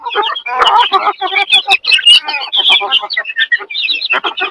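Free-range village chickens cluck and chatter close by in rapid, overlapping calls, with sharper chirps mixed into the busy flock noise and a person talking among them.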